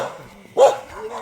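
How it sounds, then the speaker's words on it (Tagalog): A dog on a road in Quezon Province gives a single short bark at close range, with faint background noise before and after. "Uy, yung aso."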